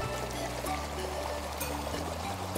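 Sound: water flowing through Inca stone channels at Tipón

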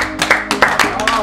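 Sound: people clapping

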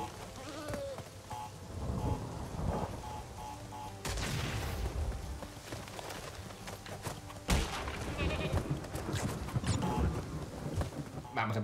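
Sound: goat bleating in Crash Bandicoot 3: Warped video game

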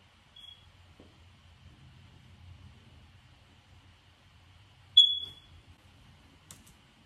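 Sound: fire alarm beeping

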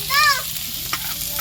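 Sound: tempering spices and garlic sizzling in oil

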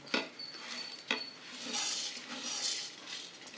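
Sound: dry-roasting spices in a pan for Udupi sambar

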